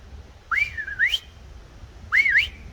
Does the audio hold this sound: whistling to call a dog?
yes